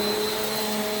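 Bissell PowerForce Compact vacuum cleaner running on carpet, a loud, steady motor whine with a constant airflow roar, close up and continuous with no talking.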